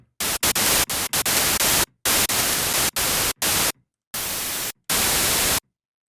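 Bursts of synthesized white noise from the Harmor synthesizer, a string of loud broadband hiss blasts of varying length separated by short silent gaps, with no voices.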